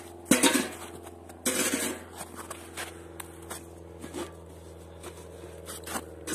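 A metal pot is set down with a sharp clank for a firecracker test, followed by a second clatter and a few lighter scrapes and taps over a low steady hum.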